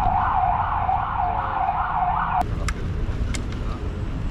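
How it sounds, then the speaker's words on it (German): A wailing ambulance siren sweeps up and down in a steady cycle, close and loud, then cuts off abruptly halfway, leaving traffic noise and a few sharp clicks. "Da sollte der Krankenwagen kommen"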